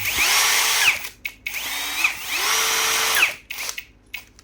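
An electric drill whirs in several short bursts, spinning up and winding down with brief pauses between runs.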